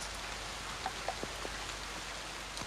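Steady rain falls in a continuous hiss, with occasional brief drops and splashes standing out, as a storm douses a fire at a camp with a tent; no talking.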